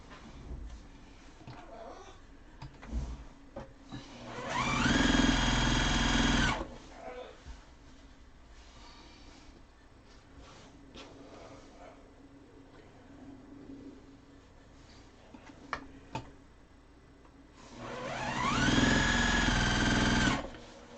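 A sewing machine stitches teapot quilt pieces in two loud whirring runs of a couple of seconds each, separated by quieter handling clicks and rustling.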